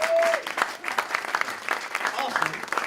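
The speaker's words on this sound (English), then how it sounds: "give yourselves a round of applause for coming out" Audience applause at a live comedy talk show, a steady wash of clapping from a crowd that carries through the whole moment with a few brief voices mixed in.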